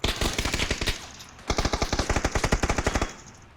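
Automatic gunfire in PUBG, two long bursts of rapid, evenly spaced shots, the second starting after a short pause, loud and close with no talk over it.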